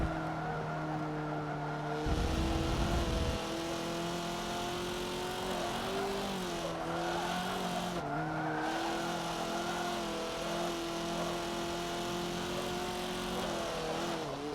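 A race car in Forza Motorsport 7 drives with a steady, buzzy engine tone, slightly understeering. A short rough burst of tire scrub or skid comes early, and the harmonics shift as the revs change. No voices.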